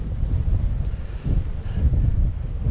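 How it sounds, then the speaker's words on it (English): Wind buffets the microphone throughout on an exposed hillside above the Ettrick Valley in the Scottish Borders, a loud continuous low rumble with gusty surges and no voices. "But it's windy up here"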